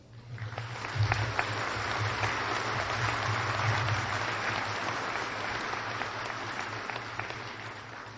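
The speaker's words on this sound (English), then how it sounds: "let's have a round of applause for our local scholarship donors" Audience at a 2018 high school graduation ceremony applauding local scholarship donors, a steady broad wash of clapping across the hall with a low hum underneath, sustained throughout.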